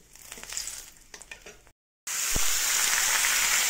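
Dried red chili and bay leaf drop into hot oil in a kadai, breaking into a loud, steady close sizzle after a brief silence, with lighter crackle and stirring before it.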